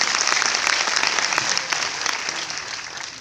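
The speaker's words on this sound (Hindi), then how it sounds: "उनके लिए जोरदार ताली होनी चाहिए।" Dense, steady applause from an event crowd for the chairman, loud and continuous for a few seconds and easing slightly toward the end.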